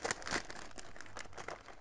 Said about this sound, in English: I'm immediately placing these into a plastic bag